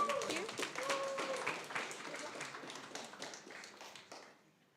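An audience at a hackathon final pitch event applauds with scattered, lively clapping that fades out toward the end, while a voice speaks briefly at the start.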